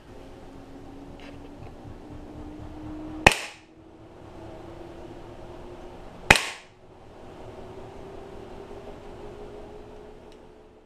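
A WE M4 airsoft rifle firing two sharp single shots about three seconds apart across a chronograph, each crack loud and close over a low steady motor hum.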